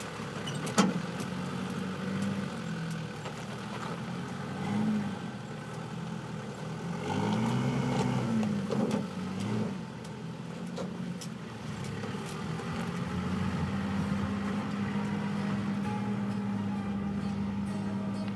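A Datsun/Nissan 4x4 engine idles and revs at moderate distance as it crawls over rocks during a 4x4 club challenge, a steady drone with low-gear pulls and swells.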